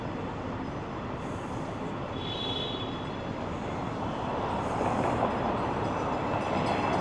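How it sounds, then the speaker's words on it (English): A Boston Green Line light rail train, older Type 7 car in front and Type 8 behind, rolls past in a steady broad rumble with a faint high squeal, swelling slightly as it nears. "There goes the Green Line train"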